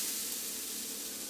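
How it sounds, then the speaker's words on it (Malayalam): Grated coconut frying in hot coconut oil for a Kerala tomato theeyal, giving a steady, close, even sizzle and hiss that carries on without a break and without any talk. "ഇതിലേക്ക് കുറച്ച് വെളിച്ചെണ്ണ ഒഴിച്ചിട്ട് ഈ തേങ്ങ നമുക്കൊന്ന് ചുമക്കെ വറുത്തെടുക്കാം."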